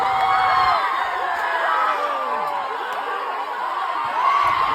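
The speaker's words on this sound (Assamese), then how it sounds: "আৰু স্যাৰ কি উল্লাস টিমৰ ভিতৰত কি উল্লাস" A crowd and team whoop and cheer after breaking a clay pot in a pot-breaking game at Lanka, excited shouts and laughter layered together, loud and close throughout.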